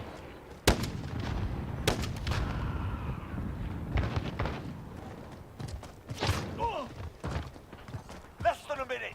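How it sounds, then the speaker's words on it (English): Sniper gunfire in an online shooter game, several sharp reports spaced irregularly, one loud near crack early and others farther off, over ambient battle noise with players talking. "That's a sniper."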